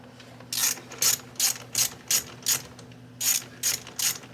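Ratchet wrench loosening a bolt on a Volkswagen Jetta, a rhythmic run of about nine sharp, close ratcheting clicks in bursts with a short pause partway through, heard alone.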